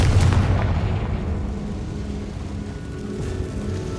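A Confringo spell explosion in the Hogwarts Legacy video game, a heavy booming blast at the start that rolls off into a long, fading rumble with no talking.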